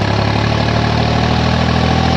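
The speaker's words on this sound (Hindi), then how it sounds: "700 RPM से उठ के वापिस गया ट्रैक्टर, 700 RPM से" Tractor engine idling steadily after being revved to about 700 RPM, a loud continuous low rumble with even harmonic drone throughout, no speech.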